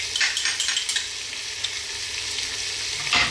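Chopped garlic and onions sizzle and fry steadily in a hot pan while being stirred, the base for an Arabic beef kabsa; a continuous close crackle with no talking.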